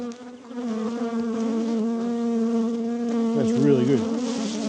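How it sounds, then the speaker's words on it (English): Loud, steady buzzing of honey bees crawling on the microphone, a continuous droning hum that never lets up, with a brief spoken remark near the end. "There were bees all over the microphone."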